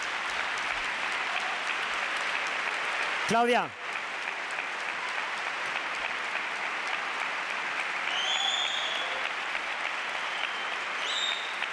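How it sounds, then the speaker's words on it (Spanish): Audience applause at the 2012 Goya awards ceremony fills the hall as steady, dense clapping throughout, with a brief louder burst and a voice speaking over it partway through. "Un aplauso para ella, por favor."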